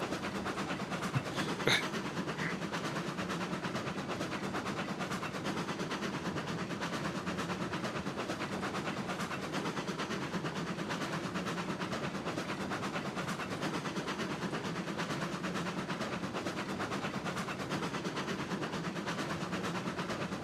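Train rolling along in the video game Railroads Online, a steady continuous rumble with rail noise throughout, one brief sharp click near the start.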